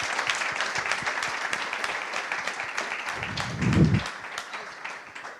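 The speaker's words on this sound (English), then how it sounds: "deserves a really big round of applause" Conference audience applauding after an interview, steady dense clapping throughout, with a louder low thump partway through.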